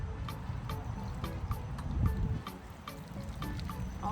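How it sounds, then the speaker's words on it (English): Water trickling and splashing as a potted blue hydrangea is watered around its root ball in a garden, a soft, close pouring sound with faint drips. "I'm gonna go ahead and water it around the root bulb."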